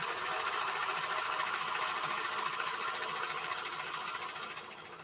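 A serger sewing machine runs steadily as it stitches furry denim material, a dense continuous mechanical whir that holds level for several seconds and fades slightly at the end, with no talk over it.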